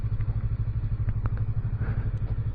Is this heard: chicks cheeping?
no